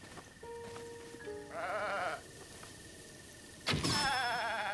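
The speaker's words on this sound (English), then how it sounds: "What is that? Oh, it's a goat of some." A goat in Zelda: Breath of the Wild gives two short, wavering bleats, each standing alone over quiet game ambience with faint tonal chimes.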